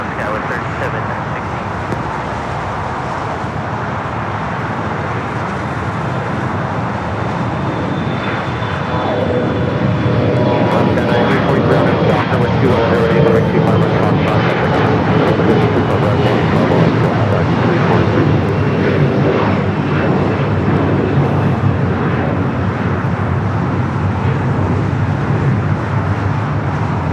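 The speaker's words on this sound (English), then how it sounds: "Got an E-Jet now rolling down at 25 at right." An Embraer E-Jet rolls for takeoff on runway 25 right at LAX, a broad jet engine roar that swells and grows louder over the clip and stays steady, with airport traffic noise beneath it and a voice heard over it.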